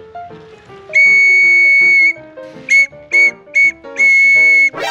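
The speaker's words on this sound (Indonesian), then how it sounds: "ini tuh peluit" A shrill toy whistle blows: one long blast, three short toots, then another long blast, over light music playing in the background.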